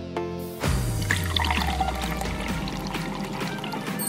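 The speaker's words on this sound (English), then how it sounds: "I'll just give this a pour." Liquid pours steadily from a golden teapot into a waiting glass, a close, continuous splashing stream that settles into a bubbling trickle, heard alone without speech.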